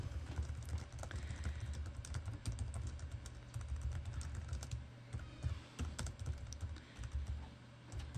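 Rapid, continuous clicking of keys on a computer keyboard, close and steady, with brief irregular pauses between bursts of typing over a low background hum.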